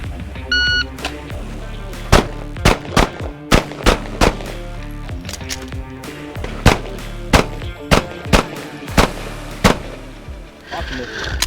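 Loud gunshots ring out in a tactical shooting drill with movement, transitions and reloads, opening with a timer beep, then rapid shot pairs and singles with brief pauses between strings.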